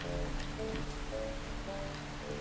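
Steady video-game rain patters softly and evenly throughout, with a quiet sustained musical drone beneath it.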